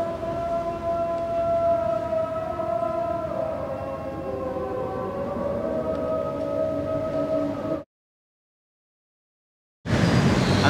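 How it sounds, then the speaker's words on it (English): A Muslim call to prayer in Kuala Lumpur: a melodic, wavering chanted voice holds long sustained notes over steady background noise, then cuts out abruptly before loud noise returns. "every morning and often in the evenings you can hear the calls to prayer being called as you listen"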